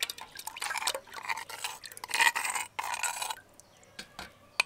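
About 500 grams of sour curd is spooned into a bowl for a traditional village-style ghol, giving soft, wet scraping and plopping sounds in a few short, quiet bursts with brief pauses and light clinks.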